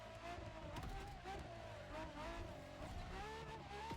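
A Ferrari LaFerrari hybrid supercar drives with its rear tires skidding, a sustained engine drone with rising and falling pitch and scrubbing tire noise, faint and continuous without talk.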